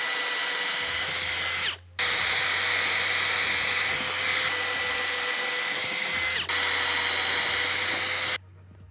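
A power drill fitted with a pilot bit whines loudly and close up in two long bursts, each several seconds long, separated by a brief stop and ending abruptly, with no talking, while building heavy front porch stairs.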